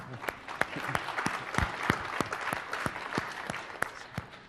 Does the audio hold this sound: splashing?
no